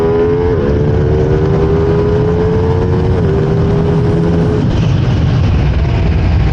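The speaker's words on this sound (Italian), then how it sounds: "il motore è uno spettacolo, perché esce fuori con una fluidità" A Ducati V2 motorcycle engine roars loud and close, holding a steady droning rev with a slow pitch rise and a shift near the end, no talk.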